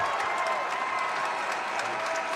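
A home crowd at a boys high school basketball state tournament final between Hendricken and La Salle applauds and cheers in a sustained, dense wash of clapping and shouts that fills the gym.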